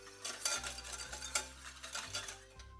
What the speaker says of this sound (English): you start to whisk directly to be sure that the acidity content will not cook your yolk